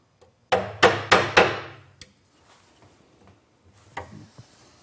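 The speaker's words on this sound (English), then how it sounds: "there's no easier way to do this than with a good sharp chisel." Sharp steel chisel struck into wood to mark a precise line in a furniture-making shop, four crisp close blows in quick succession, then a pause and one more lighter strike.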